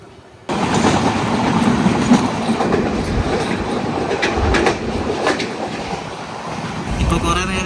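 Netravati Express train rolling along the Konkan Railway in India, recorded from inside a sleeper class coach as it picks up speed, with a steady loud rumble and wheel clatter beginning abruptly and carrying on throughout.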